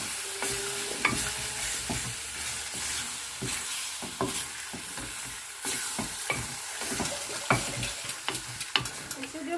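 Chicken stir fry with vegetables being mixed in a pan: a soft continuous sizzle under repeated clicks and scrapes of a utensil stirring at an irregular pace, close and fairly quiet, with no talk.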